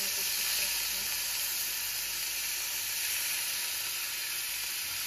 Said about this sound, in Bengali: আমি প্রথমে দিয়ে দিব অল্প পরিমাণে আদা রসুনের পেস্ট। গরম হয়ে যাওয়ার পরে